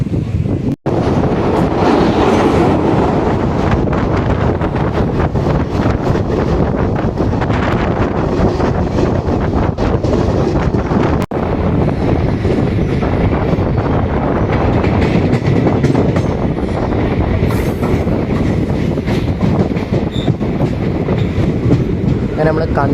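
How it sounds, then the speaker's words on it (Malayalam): The Kozhikode to Mangalore Intercity Express runs along curving track, a loud, continuous rumble of rolling wheels and carriages with wind buffeting the microphone throughout. "ഈ ട്രെയിൻ വളഞ്ഞു പോകുന്നതാണ്, അതൊരു പ്രത്യേക രസം കേട്ടോ."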